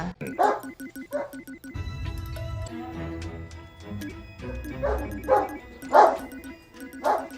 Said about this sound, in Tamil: இவங்க வளர்க்குற நாய்க்குட்டி பயங்கரமா கத்த ஆரம்பிச்சிருது.